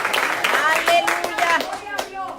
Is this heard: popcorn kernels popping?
no